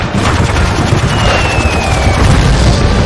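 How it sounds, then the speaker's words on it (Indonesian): Dense, continuous gunfire and booming blasts fill the scene loudly, a chaotic roar of shots and explosions with no pause, from the Battle of Semarang against Japanese troops. "Terdengar tembakan di mana-mana, ledakan menebar"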